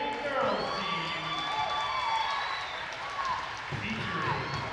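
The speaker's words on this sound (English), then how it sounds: "would everyone please give a round of applause to the Woburn 6th grade girls team" Crowd cheering and applause for a sixth grade girls basketball team in a gym, steady broadband roar with shouts and whistles sustained throughout, voices in the background.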